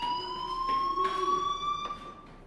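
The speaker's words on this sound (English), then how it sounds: "Hey, do you hear that fire alarm?" A fire alarm in the video game Life Is Strange rings with a steady, piercing electronic tone and faint overtones, heard moderately loud with no talk over it.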